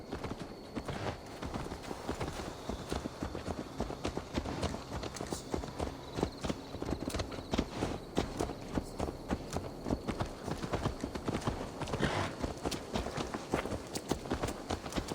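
Horse hooves in Assassin's Creed Valhalla clip-clop steadily at a walking pace for the whole stretch, close and even, with a faint ambient hum behind them.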